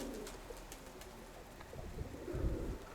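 Racing pigeon cooing softly close by, a few low murmuring coos rising toward the end against quiet outdoor background, with no talking.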